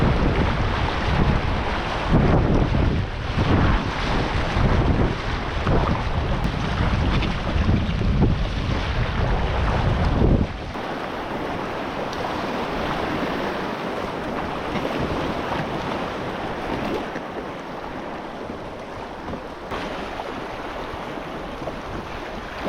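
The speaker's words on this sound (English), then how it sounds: "That right there is Elk Creek." Elk Creek, a mountain creek in Alberta, flowing as a steady rushing wash of water that is loud at first, then quieter and more distant, with wind noise on the microphone.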